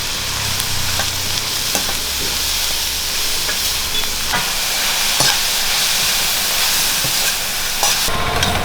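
Chicken curry with turmeric powder and salt being stirred in a hot pan, a loud, continuous close sizzle and frying hiss with scraping stirs and a few sharp clicks throughout, no talking.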